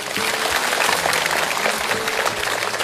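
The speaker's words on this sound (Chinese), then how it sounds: "我们用掌声来请他们上台" Loud, dense applause from a large studio audience welcoming a boy's sister and mother onto the stage, sustained and even throughout, with faint voices underneath.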